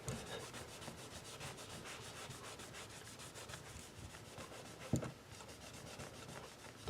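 Steady rubbing of a cloth over the dark wood of an Ibanez Iron Label guitar body to clear sticker residue, a soft continuous scrubbing close up with a couple of small knocks.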